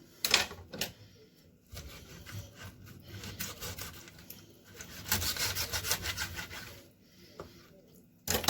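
A knife scores two slits into a raw chicken thigh on a home kitchen counter while it is prepared for marinating as fried chicken. Close, rasping scrapes come in short bursts, with a longer stretch of steady cutting in the middle.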